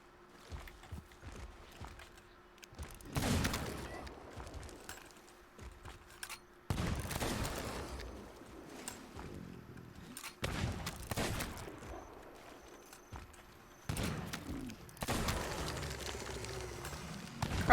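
Gunfire against crawlers in the pirate video game Sea of Thieves comes in several loud, broad bursts of shots a few seconds apart, separated by quieter stretches of footsteps and movement, with no talking.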